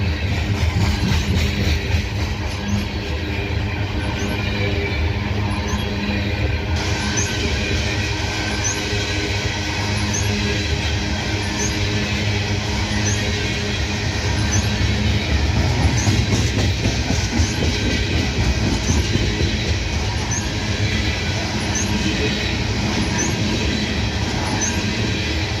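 An ES44AA freight locomotive and its train roll past, a loud sustained rumble with clickety-clack wheel rhythm and occasional squealing, close and continuous throughout.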